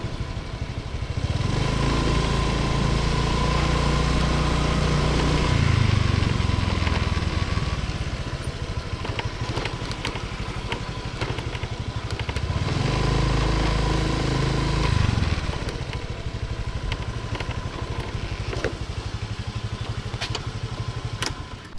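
A motorbike carrying riders through Chang Khan in Loei, Thailand, gives off a steady, close engine drone for the whole ride, swelling louder twice as the throttle opens, with no talking.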